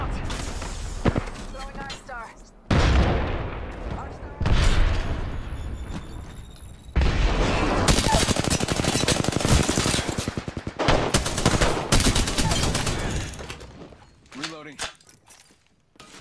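Rapid automatic gunfire and heavy bursts from a first-person battle royale shooter game, loud and sustained with brief pauses between volleys, while players talk over the action.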